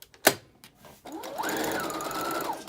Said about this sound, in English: I am sewing with roughly a 5/8 of an inch seam allowance.